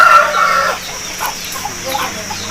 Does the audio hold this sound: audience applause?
no